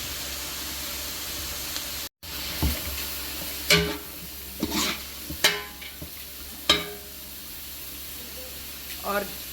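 Vegetables, chicken and onions being stirred in hot oil for a mixed vegetable pulao, with scattered scraping strokes of a spoon and a soft frying sizzle, over steady low kitchen noise.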